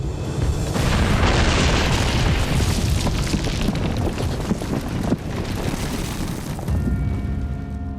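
A loud, sustained roaring rumble from a rock blasting explosion at a mountain rock site, with deep booming and debris-like crackle that rolls on for several seconds before easing slightly.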